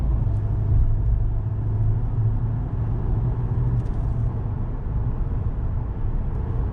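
A 2020 Chevrolet Silverado 2500HD Custom pickup accelerating at about half throttle toward 4,000 RPM, heard from inside the cab as a steady, loud low engine and road rumble with no talking.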